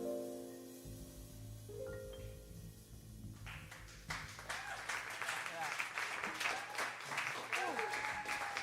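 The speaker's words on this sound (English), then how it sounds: "I think he deserves another round of applause" Audience at a live music performance on campus breaks into applause after a tune, with dense, sharp clapping swelling in midway and holding steady, under a lingering instrumental tail and some voices.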